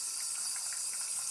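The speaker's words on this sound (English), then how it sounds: "So it's frothing, but what I have here is only water." A DeLonghi Eletta espresso machine's steam wand froths plain water with a steady, close hiss that holds evenly throughout, a faint bubbling texture running underneath.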